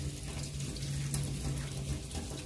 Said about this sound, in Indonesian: bilaslah kedua tangan dengan air mengalir mulai dari ujung jari sampai ke siku